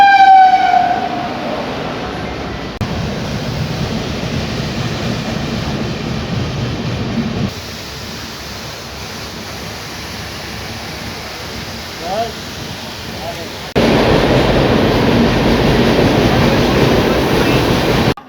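A train on the Mumbai to Pune line through the Khandala Ghat rolls along with a steady rumbling clatter, a horn sounding briefly at the start and the noise swelling louder near the end.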